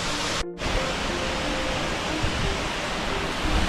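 A waterfall near Flåm, Norway roars in a dense, steady rush of falling water, loud and close, broken only by a brief dropout near the start.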